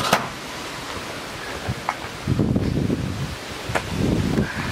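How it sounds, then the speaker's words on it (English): Wind gusting through leaves outdoors ahead of a summer storm, a broad steady rustle with stronger surges and occasional sharp buffets against the microphone. "It's getting all windy out here."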